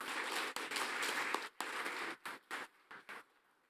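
Audience applause at a Caribbean Maritime University student achievement award ceremony, a loud, dense burst of many hands that breaks into several short stuttering bursts and then fades out.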